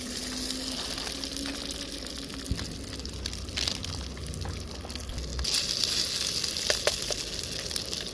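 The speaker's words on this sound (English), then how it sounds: "we're going to use up this beef fried rice for breakfast with this remaining bacon grease" Leftover beef fried rice fries in bacon grease on a camp stove at a campsite trailer, a steady, soft sizzle and crackle with a low hum under it and a few brighter pops near the end.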